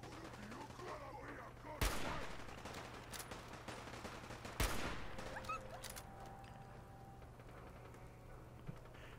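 Gunfire in Fallout near Diamond City, two sharp, loud shots a few seconds apart, each trailing off into a noisy, rumbling ambience with a faint steady hum beneath.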